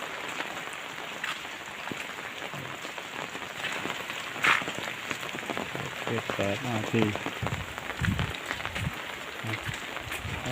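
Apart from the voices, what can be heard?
rain falling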